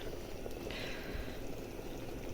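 Meat simmering in a sour cream sauce with grated hard cheese, a soft, steady bubbling and hiss that stays close and fairly quiet throughout, with no voices over it.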